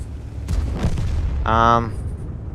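A tank cannon fires in World of Tanks, a sharp booming report followed by a short ringing, tonal mechanical whine, set against a steady low rumble of battlefield ambience.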